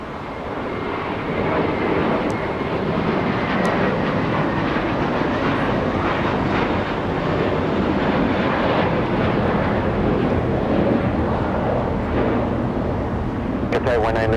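An American Airlines airliner arriving at Los Angeles International from London Heathrow roars steadily for the whole stretch, a broad, sustained engine rumble and whine that stays loud and even, with a brief ticking near the end.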